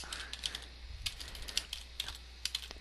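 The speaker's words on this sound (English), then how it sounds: "let me just type this real fast" Quick, light keystrokes on a computer keyboard, irregular clicks and taps close by at a brisk pace, with a low steady hum underneath and no talking.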